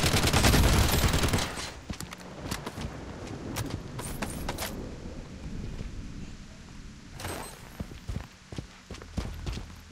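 Gunfire in the shooter video game Project Bloodstrike, a heavy opening burst followed by sharp scattered shots and short rapid volleys that fade in and out over a rumbling backdrop.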